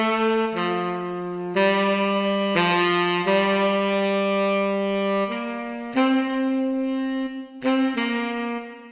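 Tenor saxophone from a sampler library plugin plays a sustained, legato melodic line of held notes with smooth pitch changes, close and clear, heard alone with no talking.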